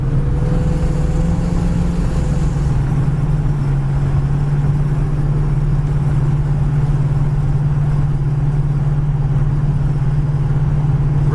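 A 1939 Chevy street rod cruises down the road at about 50 mph, its engine a steady, loud, low hum under constant road and wind noise.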